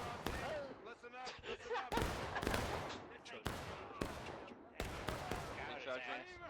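Musket volleys and scattered rifle shots crack repeatedly through a Civil War-era multiplayer battle game, with several sharp broadband bursts over continuous battle noise while voices talk and shout throughout.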